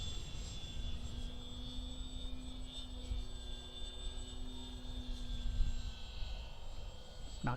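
A small RC model airplane, an FT Edge 540, whines steadily overhead, a thin buzzing propeller drone that holds a sustained pitch with slight wavering as it flies.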